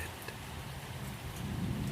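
Light outdoor drizzle near a forest, a soft steady patter with occasional scattered drops, quiet and even, with no voices.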